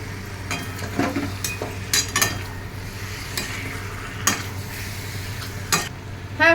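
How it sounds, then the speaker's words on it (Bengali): Chicken pieces sautéed with spice masala in a pan, steady sizzling under repeated sharp clinks and scrapes of a spatula stirring, close and without speech. "আগে আমি এই টোটালটা ভালো করে মশলার সাথে কষাবো।"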